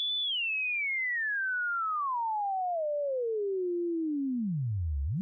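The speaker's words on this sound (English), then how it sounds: "it's a very fine and clean sine wave" A pure, clean sine wave from a Schlappi Three Body synthesizer module glides steadily downward from high to very low pitch over about five seconds, smooth and alone.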